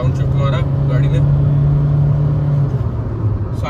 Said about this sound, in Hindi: ये देखो भाई डाउन शिफ्ट मारा गाड़ी ने